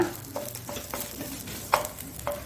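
Mangalore-style squid masala fries in a pan, a close, steady sizzle punctuated by rhythmic spatula scrapes and clicks roughly every half second.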